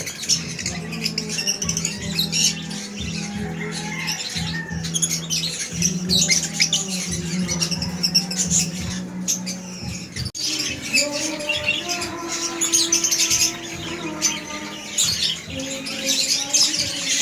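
Pet lovebirds of Crimino and Lutino mutations, a cock and a hen, squawk and chirp continuously at close range in a busy, cluttered soundscape with no speech.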